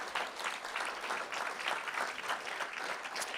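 Steady applause from a school board meeting audience for a high school jazz band, a dense patter of many hands clapping continuously at moderate volume, no voices over it.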